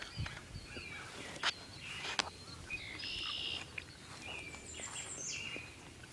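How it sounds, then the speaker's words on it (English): Woodpeckers call outdoors among other birdsong, a scatter of sharp chirps and short tonal calls, faint to moderate and fairly close, over low background hiss. "Woo, woodpeckers."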